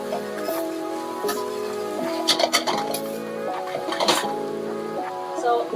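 Seasoned ingredients stirred in a cooking pot for lobster pasta with saffron bouillabaisse, giving scattered metallic clinks and scrapes of a utensil against the pot over a faint cooking hiss, with a voice speaking now and then.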